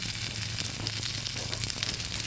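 Onion and garlic frying in a pan for a pumpkin-leaf bharta, a dense, even crackling sizzle heard up close and uninterrupted.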